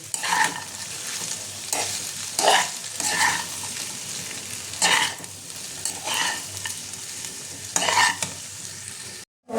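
Vegetables with fried potato and salt are stirred in a frying pan for khichuri. About eight rhythmic spatula scrapes rise over a soft, steady sizzle, close and clear.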